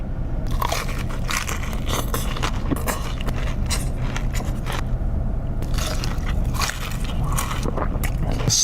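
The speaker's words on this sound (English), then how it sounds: "So tender and juicy that crunch goes crazy" Repeated crunchy bites into a honey butter fried chicken sandwich, loud and close, with crisp crackling crunches and chewing in an uneven rhythm.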